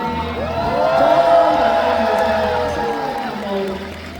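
Applause and cheering from a Hong Kong fan event audience, a swelling crowd roar with clapping that peaks and slowly fades while a voice speaks over it.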